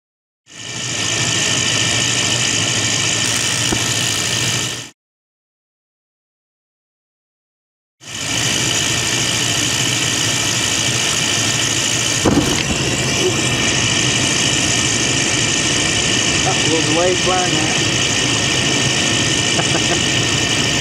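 LP gas furnace running during a failed heat exchanger diagnosis, a loud steady broadband roar with a constant hum that cuts out for about three seconds, then resumes, with a few faint clanks near the unit.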